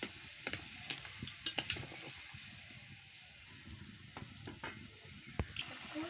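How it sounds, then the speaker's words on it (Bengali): Cabbage curry with poppy seeds being stirred in a pot after water is added, soft wet squishing and scraping with a few sharp utensil clicks against the pot, quiet and close with no talking. "দিয়ে ভালো করে নাড়িয়ে নিচ্ছি"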